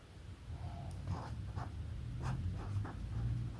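Pen writing on paper while working a mathematics exercise, soft scratchy strokes coming in short bursts close by over a low background hum, with no talking.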